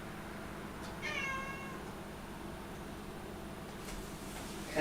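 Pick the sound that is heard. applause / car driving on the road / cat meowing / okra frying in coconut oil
cat meowing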